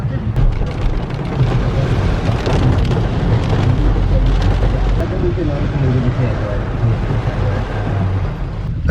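Heavy rain pours down in a steady, dense roar that stays loud and unbroken from start to finish.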